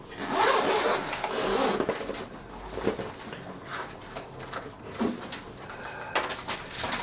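A zipper rasps open in a couple of short, scratchy pulls close by, followed by soft rustling and handling noises.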